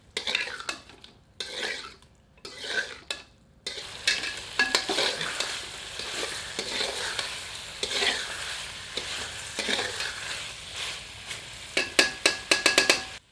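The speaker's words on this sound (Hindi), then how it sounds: "करछी चलाकर सबको मिला देते हैं।" A ladle scrapes and stirs through chicken curry in a pot as tomato puree is mixed in, with sizzling underneath and repeated clinks of metal on the pot, growing busier toward the end; no one talks.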